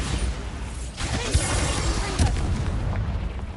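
Blasting spell explosion in the Hogwarts Legacy video game, a deep booming blast with rumbling debris that lingers for a few seconds.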